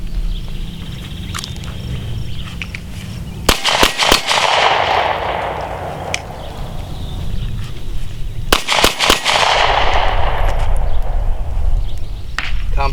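A Glock 43 pistol fires in sharp, loud bursts: a quick cluster of shots around the fourth second and another near the ninth, each followed by ringing echo over steady background noise.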